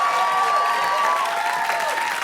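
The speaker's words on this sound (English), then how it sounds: "Give him a nice round of applause." A studio audience gives a round of applause on a game show, loud dense clapping that fills the moment, with a bright sustained electronic tone sweeping over it.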